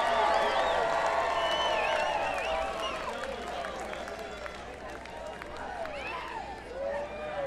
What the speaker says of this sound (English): Your applause make me feel funny.